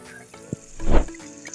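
Spice paste sizzling and bubbling in ghee in a hot pan, rising into a brief loud stir-and-fry burst before settling to a quieter crackle.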